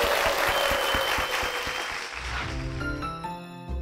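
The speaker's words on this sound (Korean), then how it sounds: "큰 박수 부탁드리겠습니다" A church congregation applauds two people being honored in a service, a dense burst of clapping that thins after about two seconds as sustained instrumental tones take over.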